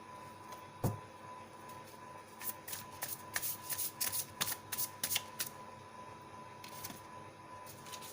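Tarot cards being shuffled by hand, with a sharp tap and then a run of quick riffling flicks and snaps, close and fairly quiet, with no talk.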